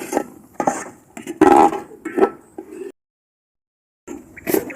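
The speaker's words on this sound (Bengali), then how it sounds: "এবার ঢাকনাটা উঠিয়ে মশলাটা একটু ভালোভাবে মিশিয়ে নিচ্ছি" A spoon stirs spices in a pot of village-style beef biryani, making a few short scrapes and clinks, then a silent pause before more stirring.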